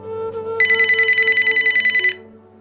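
A phone ringtone trills in a rapid pulsing burst of about two seconds over a low steady hum, clear and close, then stops.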